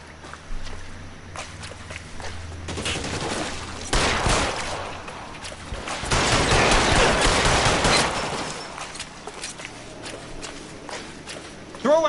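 Gunfire in the detective video game L.A. Noire, with loud bursts and volleys of shots rising in a dense barrage, mixed with game voices and ambient noise throughout.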